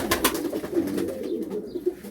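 Flying pigeons coo close by in soft, throaty, overlapping murmurs, with a few sharper flutters and clicks mixed in and no one speaking.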